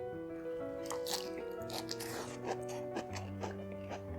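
Someone bites into and chews a crunchy lettuce wrap filled with coconut, peanuts, sesame, rojak sauce and sambal, with crisp snaps and wet munching close up over soft background music.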